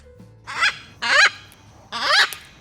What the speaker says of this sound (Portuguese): é muito legal ouvir as araras e vê-las bem na minha janela